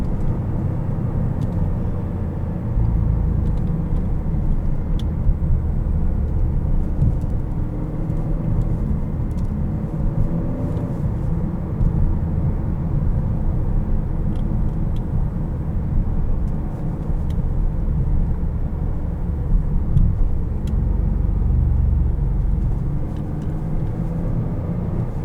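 A 2016 Chevrolet Impala LTZ's engine hums steadily from inside the cabin while driving, with continuous low road rumble throughout and no talking.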